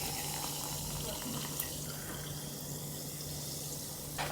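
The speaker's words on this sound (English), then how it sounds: "Top it with ice-cold sparkling water." Ice-cold sparkling water is poured into a lemon drink in a Beijing apartment, making a soft continuous trickle and fizz at low level throughout.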